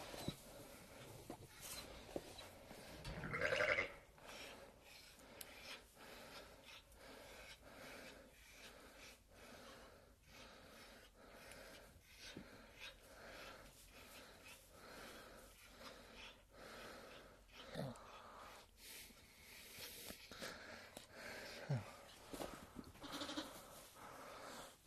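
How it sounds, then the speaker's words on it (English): Sheep bleat repeatedly inside a pen on a small farm, several animals calling at varied distances with snorts and shuffling between cries, loudest burst early then steady intermittent bleats throughout. "so we'll go and get these sheep out of here"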